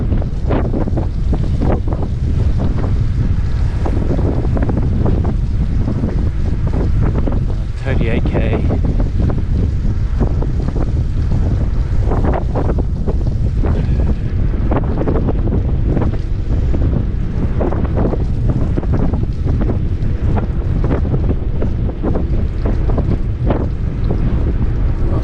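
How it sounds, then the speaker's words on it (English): Strong gusting crosswind roars across the microphone while cycling a road on Harris and Lewis in Scotland, a loud, continuous buffeting rush that fills the whole stretch with no letup. "Oh, quite a crosswind on this bit."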